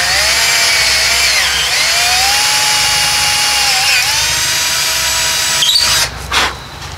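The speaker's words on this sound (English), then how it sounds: "So take your drill again," A power drill drilling holes in tent stakes whines loudly and continuously, its pitch wavering as it bites into material, then cuts off with a few short bursts at the end.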